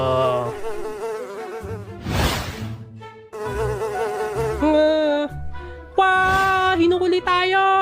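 A housefly buzzes in an animated scene, its steady drone running almost throughout and mixed with voice-like and musical tones.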